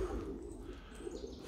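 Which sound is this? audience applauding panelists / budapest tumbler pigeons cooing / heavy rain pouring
budapest tumbler pigeons cooing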